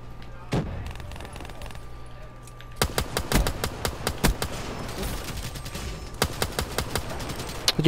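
Rapid bursts of M14 rifle fire crack in a video game shooter match, with a single shot early, then steady repeated shots with short pauses between strings, close and loud over low background game noise.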